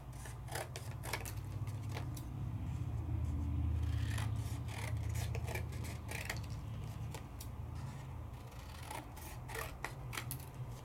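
Cardstock being trimmed for a handmade card, with a steady close rasp of cutting and sliding paper, and sharp clicks and snips scattered throughout over a constant low hum.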